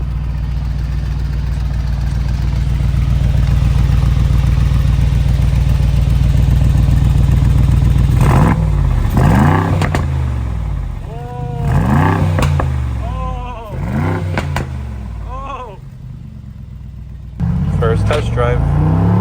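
A Mercedes G63 fitted with an FI exhaust idles with a loud, deep burble, then a series of sharp revs rise and fall several times, close by, with voices talking over parts of it.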